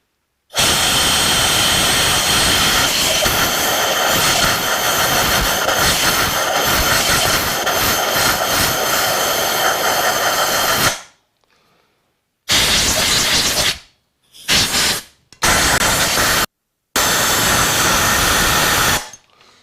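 Compressed air blasting debris out of a spark plug well on a Suzuki GS1000 motorcycle: a loud, harsh hiss held for about ten seconds, then several shorter bursts separated by gaps, with no talking.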